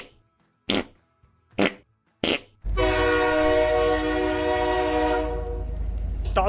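After three short, sharp bursts, a train horn blasts loud and steady for about two and a half seconds, then fades into a rumble.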